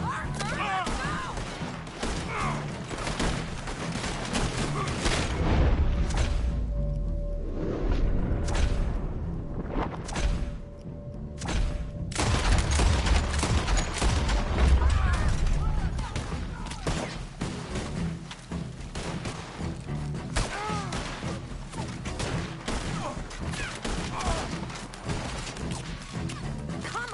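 Gunfire in Red Dead Redemption 2 crackles almost nonstop, with sharp rifle and pistol shots, crashes and impacts layered over a busy scene, and voices speaking between the volleys.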